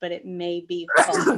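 A single sharp sneeze bursts out at close range in a board of education meeting, right after a person speaks.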